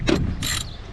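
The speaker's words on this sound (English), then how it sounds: "I happen to have a 3/8 ratchet with an extension on it, and you're going to go ahead and get down in there and just loosen" A 3/8 ratchet with an extension loosens the battery bracket bolt on a Kia Sportage, giving two quick, close, crisp bursts of pawl clicking.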